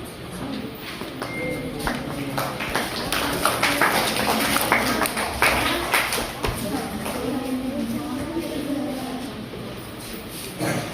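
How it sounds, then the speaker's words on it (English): An audience at an Independence Day celebration claps steadily for performers coming forward to sing, a moderately loud, dense patter of many hands sustained throughout with a faint background hum. "Let's encourage them with a big round of applause."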